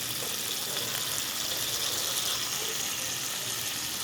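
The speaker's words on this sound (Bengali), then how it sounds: "এরপর আমি এই আলুটা দিয়ে দিলাম তেলের মধ্যে।" Potatoes frying in hot oil in a pan while cooking chira polao give a steady, close, broadband hiss and sizzle that holds evenly throughout with no voices.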